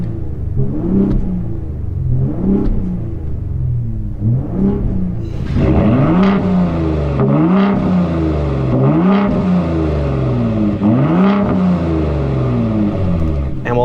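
A Ford F-150 Raptor pickup in Baja off-road mode revs hard repeatedly, each throttle blip rising then falling in a regular cycle; the engine grows noticeably louder and rougher partway through, close and dominant.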